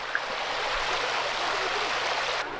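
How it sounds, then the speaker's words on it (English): A water volcano feature splashes continuously into a thermal pool, a steady broad rushing hiss of falling water, moderately close and unbroken. "This pool also has a water volcano."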